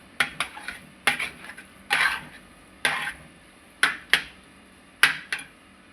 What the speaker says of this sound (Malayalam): ഇതുപോലെ നല്ലപോലെ ഇളക്കി മിക്സ് ചെയ്ത്